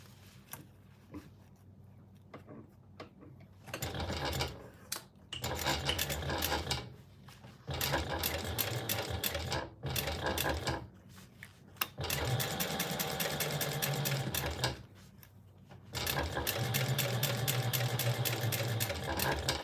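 Sewing machine top stitching a fabric baby sling, running in several sustained bursts with short pauses between them, close and loud throughout.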